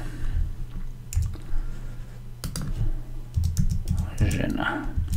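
Typing on a computer keyboard, a close run of quick irregular key clicks in short bursts, with someone talking quietly underneath.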